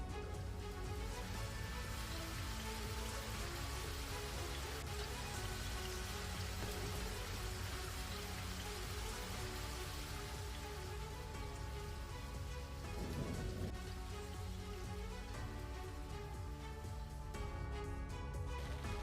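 Heavy monsoon rain in Gujarat pours down in a dense, unbroken hiss of drops hitting surfaces, steady and loud for the whole stretch.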